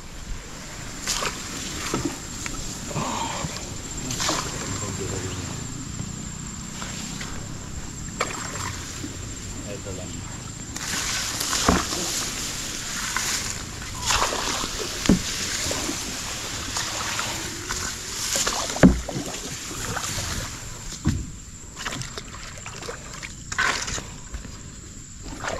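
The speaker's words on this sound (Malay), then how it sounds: "Kita tarik bot geng." Boat being hauled by hand up a shallow forest river in Membakut, Sabah, with water splashing and scraping in irregular bursts, people talking and calling out throughout, under a steady high insect drone.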